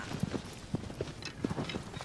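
Agro the horse gallops in Shadow of the Colossus, her hooves striking the ground in soft, spaced clip-clop beats that sound fairly faint with no voices.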